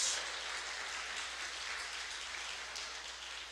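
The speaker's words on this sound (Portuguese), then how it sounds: "Você pode aplaudir a Ele, no nome de Jesus." A church congregation applauding together during a sermon, a dense, steady wash of clapping that stays loud and even throughout with no voices over it.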